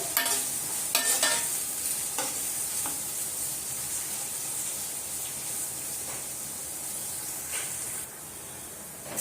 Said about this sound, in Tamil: இப்போ வெங்காயத்தை நல்லா வதக்கிக்கலாம் நல்லா பொன்னிறமாக ஆறு வரைக்கும் வெங்காயம் வதங்கட்டும்